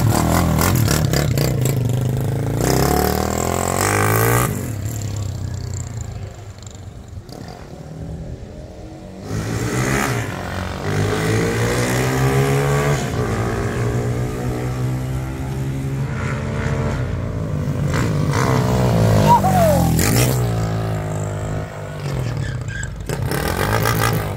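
A modified Honda CG 150 motorcycle with a GRS engine revs repeatedly, loud and close, with rising and falling pitch sweeps and brief drops between pulls.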